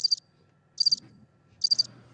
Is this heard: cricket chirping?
yes